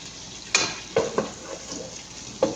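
Chopped tomato goes into a sizzling pan with lemongrass, a soft bed of frying hiss broken by several sharp clinks and thumps of pieces and utensil hitting the pan.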